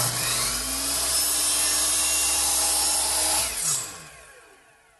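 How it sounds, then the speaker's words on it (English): A saw in a miter box set at 45 degrees chamfers the edge of a wooden piece, a steady close whine and rasp that cuts off abruptly and fades to quiet. "I'll do that right here on the miter box, set at a 45-degree angle"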